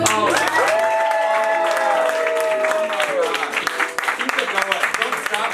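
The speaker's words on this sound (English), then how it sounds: "Don't stop clapping." A comedy show audience applauds and cheers loudly for several seconds as the next comedian takes the stage, with a clear voice rising above the crowd before the clapping thins out.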